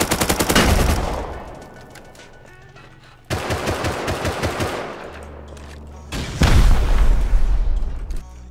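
Gunfire in the survival video game Rust comes in three loud rapid bursts, each a string of sharp shots with booming low end. Quieter gaps separate the volleys.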